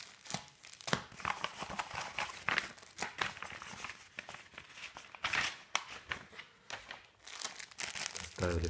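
A plastic mailer package from Germany is torn open and unwrapped close up, with continuous crinkling, rustling and sharp tearing crackles throughout and no talk.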